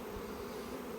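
Honeybees buzz around a hive at a failed swarm, a steady, dense insect hum that stays even and close throughout the short moment with no voices.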